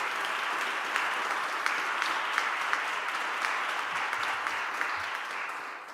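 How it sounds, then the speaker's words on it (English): An audience at a symposium on justice reform claps in a sustained round of applause, broad even clapping from a large crowd that continues for several seconds and slowly tapers at the end. "a round of applause"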